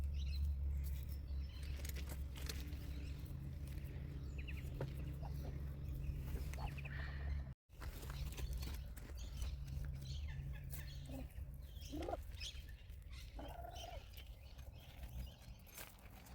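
Backyard chickens cluck and murmur softly at a moderate distance, with scattered clucks and rustling over a low steady background hum.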